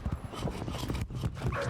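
Mutant dogs snarl and growl in a dense, continuous tangle of creature noise amid gunfire-like thumps and rumble in the Pripyat area of the Stalker 2: Heart of Chornobyl video game.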